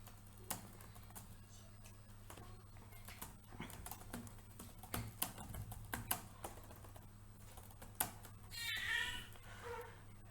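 Quiet, irregular keystrokes on a computer keyboard while text is entered into a web page's HTML body, with no voice. The clicks come in loose bursts and grow busier toward the end.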